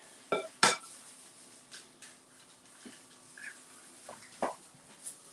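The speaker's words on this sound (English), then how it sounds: "I'm just whisking this thing up real quick with the egg" A whisk beats a jumbo egg into sauce in a bowl, giving close, quiet, irregular metallic clinks and taps against the bowl with short pauses between strokes.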